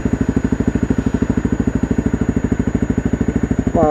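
A motorcycle fitted with an FMF Q4 exhaust thumps at a steady, even idle-like pulse, loud and close, with rapid regular firing beats and no talking.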